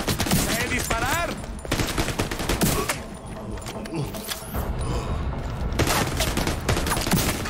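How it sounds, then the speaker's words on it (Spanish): Gunfire from a character shooting in a video game crackles in dense repeated bursts, mixed with game effects, mechanical clatter and voices speaking over parts of it. "¿Ves? ¡Sé disparar!"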